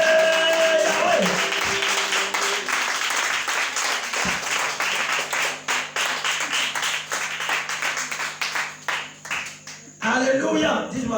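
Congregation at an evening church service applauding and cheering for Jesus, a sustained wash of clapping with scattered shouts that thins out toward the end before a brief renewed burst.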